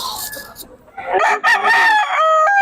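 A rooster crows loudly and nearby at a chicken market in Bocaue, one strained drawn-out call that follows softer clucking and background market noise.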